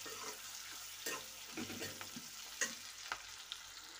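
A spoon stirs green chillies and masala in a frying pan for kadhai paneer, giving a soft scraping sizzle with a few light clinks, quiet and close, with no talk.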